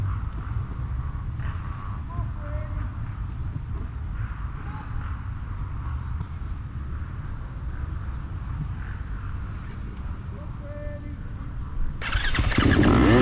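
Yamaha YZ250F dirt bikes at a race start, engines droning and rising in a loud, dense roar from nearby, with a sharp surge in volume near the end as the field launches.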